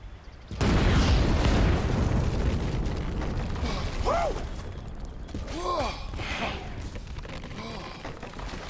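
A dynamite detonation in Red Dead Redemption 2 hits with a sudden loud boom, then a long rumbling roar that slowly fades while debris creaks and rattles, with faint voices in the background.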